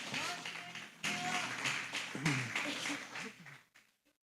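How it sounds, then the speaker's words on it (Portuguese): A church congregation claps in a crowded burst of applause, a dense wash of hand taps that swells and fades over a few seconds, fairly quiet and reverberant, with voices mixed in. "Pode aplaudir o Senhor."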